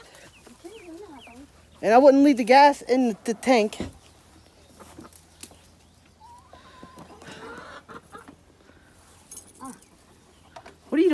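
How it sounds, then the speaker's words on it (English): Chickens cluck and squawk in a short loud burst near a car in a yard, with quieter clucks later and people talking nearby. "The chickens are all over the car."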